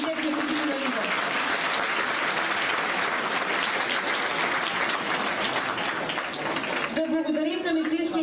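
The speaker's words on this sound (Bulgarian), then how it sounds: "Аплодисменти за тях и техния професионализъм." Sustained audience applause at a youth football tournament awards ceremony in Stara Zagora, dense steady clapping filling the hall throughout, with a voice speaking at the start and again near the end.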